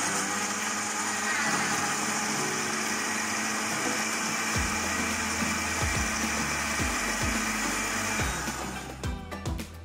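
A kitchen blender whirs steadily while blending pepper for pepper soup, a loud continuous motor drone with knocking from the blade load that fades near the end.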